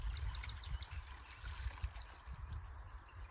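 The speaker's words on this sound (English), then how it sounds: "we fill this basin with water" Water pours and trickles into a basin for a DIY solar-powered pest trap on a farm, a faint, continuous splashing flow with low gurgling rumble throughout.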